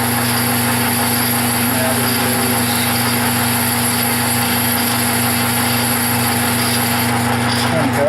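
A metal lathe runs steadily with a sustained motor hum and whine while taking a twenty-thousandths cut, loud and continuous throughout, with a brief word spoken over it.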